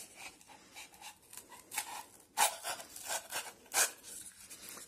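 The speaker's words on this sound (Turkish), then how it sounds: "Öncelikle karton bardağımızı alıyoruz. Ve bu şekilde altını çıkartıyoruz." A knife saws through the bottom of a paper cup in a series of short scraping, rasping strokes, uneven in rhythm, close and fairly quiet.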